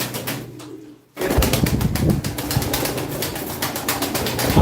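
Pigeons, among them a white-tailed male and an Arab hen, calling close by in a loose, busy chorus of repeated coos and calls, loud and continuous after a brief lull near the start.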